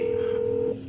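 A phone ringing inside the video game GTA V, a single short electronic tone held steady for under a second before cutting off, heard through a speaker amid faint room noise.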